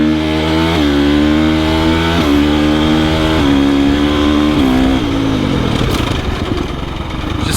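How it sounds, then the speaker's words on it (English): A 2025 KTM 350 XCF motocross bike accelerating hard at wide-open throttle, its loud engine note climbing and snapping up through several quick-shifter gear changes with no break in the drive, close to the microphone. "Alright, so this is how it sounds when you have a quick shift."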